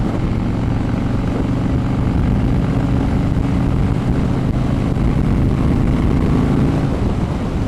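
A Harley-Davidson Fat Boy fitted with a Vance & Hines Pro Pipe exhaust rumbles steadily and loudly under way, a continuous deep engine drone with no speech.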